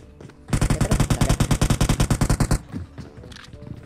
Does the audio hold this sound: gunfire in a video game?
yes